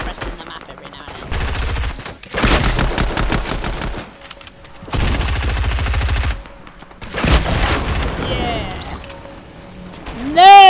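Bursts of automatic gunfire in a video game come in several rapid volleys separated by short quieter gaps. Someone talks in between the bursts, and a rising electronic tone is heard near the end.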